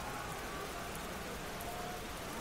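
Steady downpour of rain in a video game, a dense even hiss of falling water filling the whole moment without breaks or voices.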